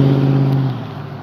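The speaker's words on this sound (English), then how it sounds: "That's a car." A car engine passing close by, a loud low droning rumble with a steady tone that drops and fades after about a second as the vehicle moves away.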